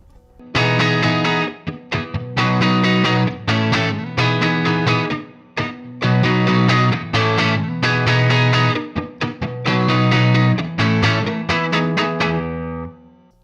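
Electric guitar playing shoegaze-style clean rhythm through the Fine Classics Vintage Vibe amp simulator, with bright, shimmering strummed chords in choppy bursts separated by short pauses, played alone with no talking.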